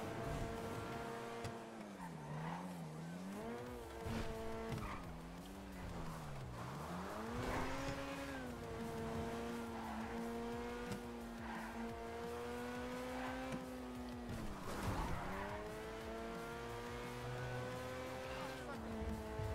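Engine sounds from cars racing at night in a GTA roleplay game, including a Komet sports car, with sustained revving tones rising and falling through gear changes, steady and prominent, alongside game music or ambience.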